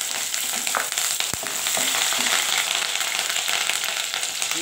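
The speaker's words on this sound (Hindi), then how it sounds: "ऑयल गर्म हो गया है, इसमें अभी अदरक डाल रही हूँ। अदरक के साथ साथ हरी मिर्चें भी डाल रही हूँ।" Ginger and green chillies frying in hot oil, a loud, close, continuous sizzle and crackle with a sharp pop near the start, heard alone without talk.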